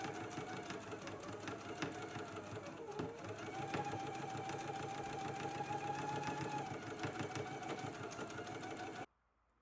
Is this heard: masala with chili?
no